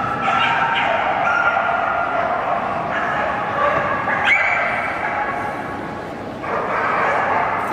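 At a Kennel Club Olympia novice stakes dog show, a dog keeps up high, repeated yips and whimpering barks over the hall's background noise, with commentary heard alongside.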